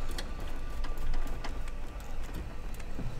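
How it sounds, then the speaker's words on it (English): A 3D printer runs in the background of a room during a gaming PC build, giving off faint, irregular ticking and whirring motor sounds over a low steady hum. "I hear the Wrecked Thrones guys' 3D printer going off."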